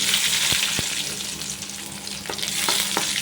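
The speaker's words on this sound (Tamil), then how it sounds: "கடுகு உளுத்தம் பருப்பு கொஞ்சமாக எண்ணெய் வச்சு தாளிச்சிக்கிறோம்" Hot oil sizzles and crackles steadily, with a few sharp pops as mustard seeds, urad dal and dried red chillies fry in a pan.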